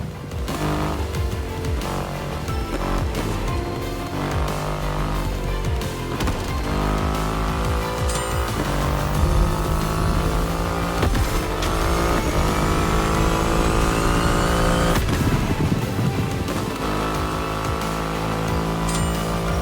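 A Triumph motorcycle with a 2.5-liter engine revs and accelerates in The Crew Motorfest, a loud, close engine note rising through repeated gear changes and rev sweeps over about twenty seconds, with no voices.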